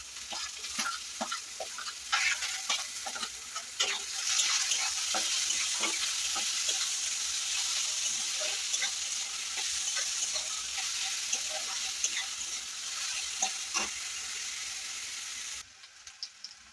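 Chopped onion frying in a pan with ginger and garlic for a paneer tadka, a steady close sizzle with scattered crackles and pops running continuously, no talk.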